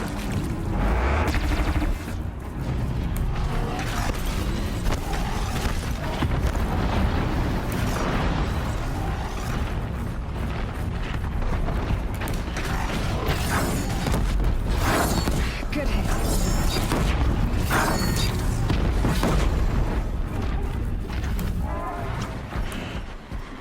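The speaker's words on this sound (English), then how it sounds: "that is a disc launcher, and it's highly powerful and will drop a thunderjaw with about 3 shots" Disc launcher fire and explosions against a Thunderjaw in Horizon Zero Dawn The Frozen Wilds: dense, loud, continuous barrage of booms, blasts and mechanical clatter with a game soundtrack underneath, plus talking over the action.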